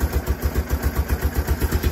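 A Kawasaki KLF Bayou 300 ATV engine runs after a carburetor swap, with a steady, evenly pulsing mid-pitched idle chugging up close.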